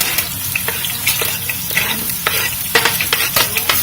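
Chopped onions roast and sizzle in a hot pan for a Mauritian dish, a steady frying hiss broken by repeated scraping stirs, close and with no voices.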